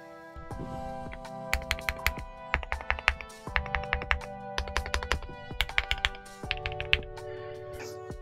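Close, crisp typing on an Akko JIN01 Santorini 65% aluminum three-mode mechanical keyboard with screw-in stabilizers, keys clacking in quick bursts separated by short pauses, over soft steady background music and no speech.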